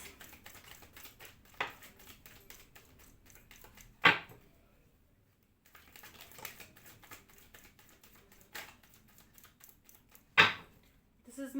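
Cards being shuffled by hand, soft papery riffling and patter in two rounds, each ending with a sharp snap of the deck, fairly close and quiet.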